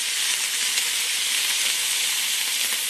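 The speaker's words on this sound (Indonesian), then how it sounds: "Terakhir kita panggang ayamnya di sini ya teman-teman." Chicken roasting in a hot pan sizzles loudly and steadily, a close, continuous bright hiss with no pauses and no talking.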